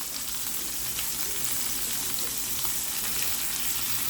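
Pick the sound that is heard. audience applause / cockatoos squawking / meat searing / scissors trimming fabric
meat searing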